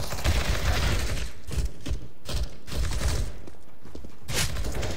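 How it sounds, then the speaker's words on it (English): Rapid gunfire in Counter-Strike: Global Offensive, clustered bursts of shots close by with short gaps, alongside thuds and faint footsteps. "Everybody's shooting at me and I can't see them."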